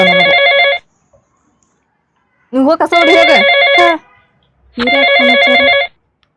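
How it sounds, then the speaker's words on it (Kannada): A phone ringtone rings loudly in three bursts with pauses between, and a voice speaks briefly between the rings. "ಏ ಗೀತಾ ಫೋನ ಹಾವ ಫೋನ್ ಬರ್ತಾನೆ"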